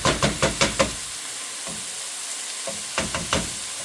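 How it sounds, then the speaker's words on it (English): Sausage stirred with onions in a frying pot for a low-carb soup, a rapid run of spoon knocks against the pot over steady sizzling, then a quieter pause and another few scraping knocks, close up. "stir all the sausage in with the onions"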